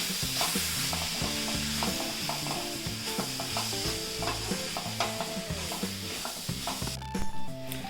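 Chopped tomatoes are stirred into masala in a hot pan, with a loud steady sizzle and rhythmic scraping and clinking of a spoon against the pan, close up throughout.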